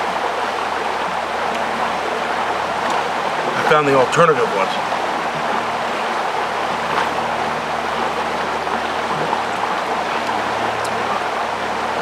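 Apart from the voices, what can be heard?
river rapids flowing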